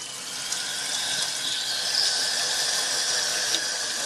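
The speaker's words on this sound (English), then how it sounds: "Get the water running." Water runs steadily from a tap with a constant, close hissing rush and no talking.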